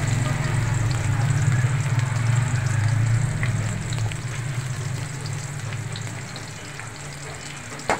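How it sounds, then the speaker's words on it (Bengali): Chopped onions frying in hot oil in a wok, a steady loud sizzle with stirring scrapes that eases slightly toward the end, no talking. "দেখেন, চুলাই কড়াইতে তেল বসিয়ে দিছি। এখন পেঁয়াজ কুচি দিয়ে দেবো।"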